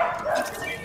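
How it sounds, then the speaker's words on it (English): A pet dog named Coco gives a short, faint, close yip or bark, lasting well under a second, with voices overlapping it. "No, that's my dog."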